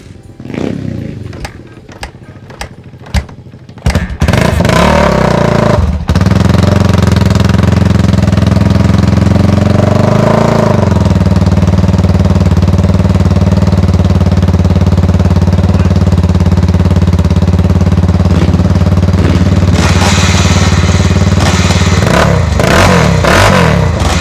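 A 1983 Armstrong 500 MX motorcycle engine is kicked and fires up, then runs loud and close with a rough, throaty idle and sharp revs, continuing steadily for about twenty seconds.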